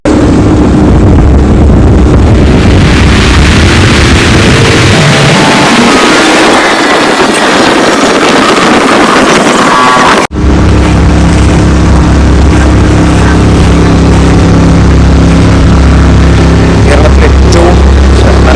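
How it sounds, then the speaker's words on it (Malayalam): A water metro boat speeds along near Kochi, its engine droning loud and constant with rushing water and wind throughout, the tone shifting midway. "വളരെ സ്പീഡിലാണ് ഇപ്പോൾ നമ്മുടെ ബോട്ട് പോയിക്കൊണ്ടിരിക്കുന്നത്"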